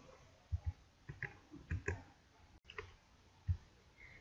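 Clicks and key taps sound from a computer keyboard and mouse during spreadsheet work, coming as scattered, close, quiet presses in small irregular clusters.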